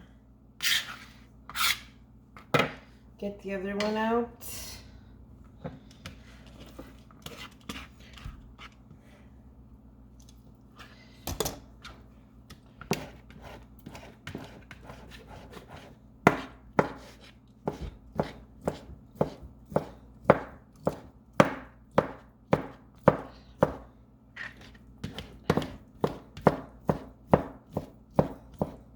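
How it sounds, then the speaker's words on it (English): Knife chopping crunchy taco ingredients on a cutting board, scattered at first and then a steady run of rapid, sharp thuds, close by with a brief spoken remark early on. "so I'm just chopping all this up"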